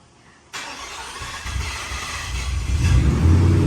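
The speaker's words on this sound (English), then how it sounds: "remember the whole extended cranking sound?" A Ford Raptor R pickup truck's engine cranks for an extended stretch before catching, starting abruptly with a loud wash of starter and engine noise that builds into a deep, rising rumble as it fires and settles, with no talking.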